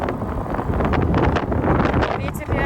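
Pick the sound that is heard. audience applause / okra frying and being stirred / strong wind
strong wind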